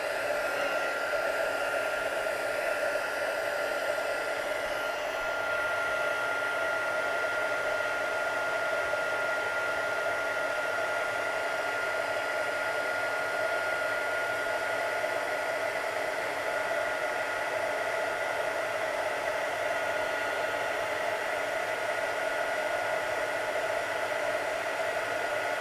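A small heat tool blows hot air to melt embossing powder on a papercraft frame, making a constant, even whooshing hiss with a faint tonal whine that holds unchanged from start to finish.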